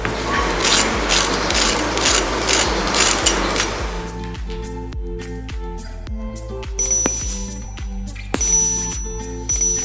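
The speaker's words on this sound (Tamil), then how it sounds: "இதோடைய கிறிஸ்பினஸ் கேளுங்க, எவ்வளோ தூரத்துக்கு சூப்பர் கிறிஸ்பியாக இருக்குது" Crispy fried medu vadai, urad dal fritters, crunching and cracking close up, a dense rattling crunch at first, then sparser sharp crackles and snaps.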